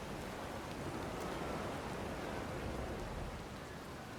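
Heavy storm rain at sea in the game Pillars of Eternity 2: Deadfire, a dense, steady hiss of pouring rain with a low rumbling undertone, constant and loud throughout.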